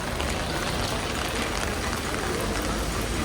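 Steady rain falls over a crowded street market in Seoul, a dense even hiss of drops with no break and no clear voices.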